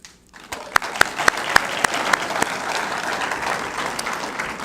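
An awards-ceremony crowd breaks into applause, opening with a few sharp, loud individual claps before swelling into dense, sustained clapping from many people.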